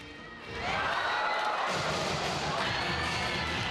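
Korean crowd screaming and cheering at a sports game, a loud, sustained roar of many voices that swells in after a quieter half second and holds steady, heard from within the stands.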